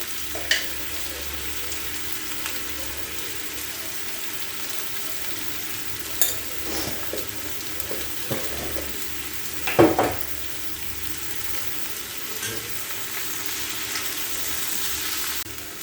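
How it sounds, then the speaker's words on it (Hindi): Chopped vegetables with brinjal sautéing in a kadhai with red chilli powder, coriander powder and salt, giving a steady low sizzle and fry hiss throughout, with a few soft scrapes and clinks of stirring near the middle. "हमने सब्जी को अच्छे से सेक लिया है, तो सब्जी की क्वांटिटी भी आप लोगों को अब कढ़ाई में कम लग रही होगी"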